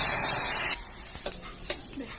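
Boiled masoor lentils tipped into a hot pan give a loud, sharp sizzle for under a second, which cuts off abruptly and leaves faint scattered stirring and bubbling.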